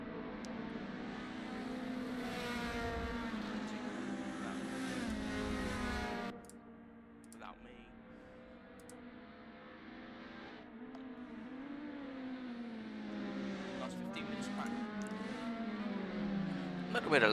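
Toyota Altezza race cars in a racing video game at Laguna Seca, a steady engine drone and whine that dips briefly and then builds again, continuous throughout.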